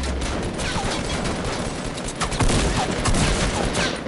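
Dense, continuous gunfire from a video game shootout fills the clip, a rapid stream of close, loud shots from several weapons overlapping without a break.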